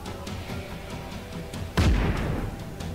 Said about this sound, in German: Die Granate war mal Verschwendung pur